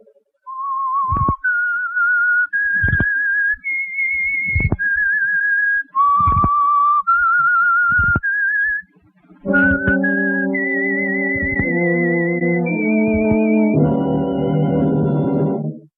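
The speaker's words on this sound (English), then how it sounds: "That whistle." A clear whistled melody of steady held notes, loud and close, with a richer, fuller tone joining in for the final phrases.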